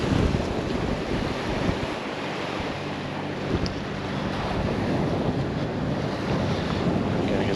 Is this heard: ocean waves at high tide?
yes